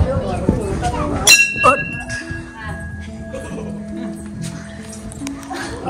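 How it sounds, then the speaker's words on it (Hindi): A metal temple bell in a village in Dungri gives one loud clang with a long ringing decay. A voice talks over the start. "अरे घंटी बहुत ऊपर है भाई,"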